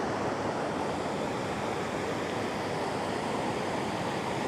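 Clear river water rushes over submerged rocks, a dense, even roar of flowing water that holds steady throughout without any break or voice.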